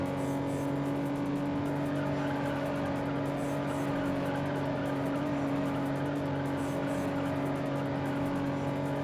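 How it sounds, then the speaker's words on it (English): A Toyota Supra engine in a racing video game holds a steady, sustained mid-pitched drone with slight rises in revs, moderately loud throughout and with no speech. "And this is the Supra we won from TK, like right at the beginning of the game"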